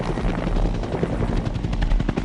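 Military helicopters flying over South Vietnam in 1965, a loud, close, continuous rotor thudding with rapid rhythmic blade chop and engine roar, no voices.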